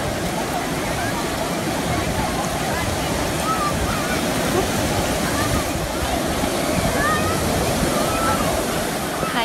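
Ocean surf breaks continuously at a crowded summer beach in the US where a father and child jump the waves, a loud, unbroken wash of water with wind and distant crowd voices underneath.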